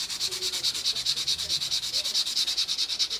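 A very fine sanding sponge rubs back and forth along the seam of a plastic 1/32 Tamiya F-16 canopy, making quick, even, close-up scratchy strokes at a steady rhythm throughout.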